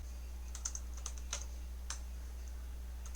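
Scattered keystrokes tap on a computer keyboard while entering commands at a command line, light and close over a steady low electrical hum.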